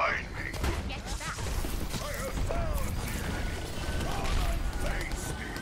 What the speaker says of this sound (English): I'm about to start shooting everybody.